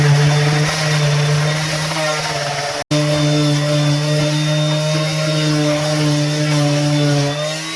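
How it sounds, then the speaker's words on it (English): A steady, loud motorized buzz from a power tool, like an electric sander, running continuously with one brief dropout. "In the meantime, I've got lots of sanding to do."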